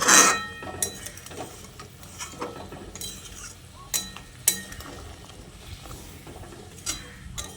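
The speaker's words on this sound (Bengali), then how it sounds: "তারপর একবার হালকা হাতে নাড়াচাড়া করে মিশিয়ে নিচ্ছি।" A vegetarian pointed gourd (potol) curry is stirred gently in a pan, giving close, intermittent scrapes and light clinks from the utensil against the pan, with no talking.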